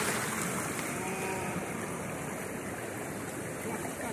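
Creek water rushes and splashes steadily around someone bathing in the Riacho Seco, a continuous broadband wash close by with no talk over it.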